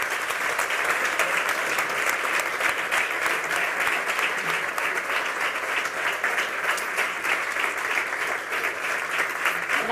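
An audience claps steadily in sustained applause at an event, a dense even patter of many hands with no break throughout.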